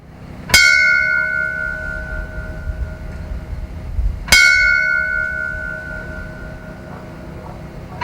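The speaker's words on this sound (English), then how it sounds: "on behalf of a grateful fire community, we toll the bell" A memorial bell tolls for a firefighter, two clear, loud strikes several seconds apart, each ringing out with a long, slowly fading metallic hum.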